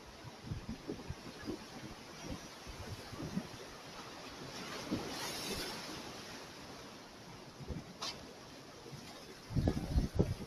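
Rough sea waves surge and wash continuously at high tide on the Konkan coast while fishing, with gusty wind buffeting the microphone and a louder burst of surf near the end.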